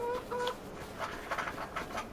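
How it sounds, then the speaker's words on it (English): Chickens cluck and chirp in a Farm Sim 25 farmyard, with short bird-like calls early on and a steady, busy flock chatter after that, at moderate loudness. "We've got chicks, yeah. Little chickens."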